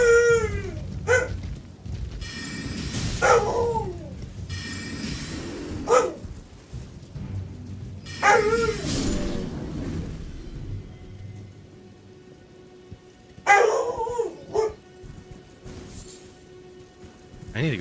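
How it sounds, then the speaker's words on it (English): A dog named Nika barks in several separate loud bursts, spaced a few seconds apart, over a steady rain-like patter, with a voice talking in between. "I need to go see what she's barking at."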